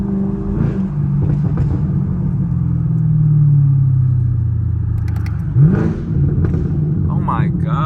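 A loud Chevrolet Camaro SS V8 engine rumbles and revs steadily at night, with a few sharp exhaust pops near the end as it lets off, voices faintly underneath.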